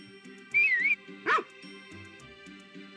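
A puppy in the Harvest Moon video game gives a high whistled yip and then a short bark over looping chiptune background music, the electronic sounds crisp and prominent.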